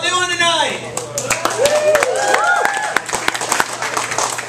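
Scattered audience clapping at a comedy night in a bakery and cafe, sparse and uneven claps mixed with a host's voice and crowd murmur over steady background music.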